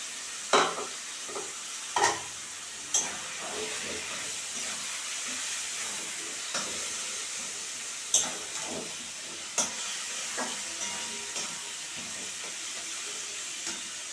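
Fish oil and fish eggs fry with mixed vegetables for a paneer curry in a steady, soft sizzle, punctuated by occasional spatula knocks and scrapes against the pan, no talking.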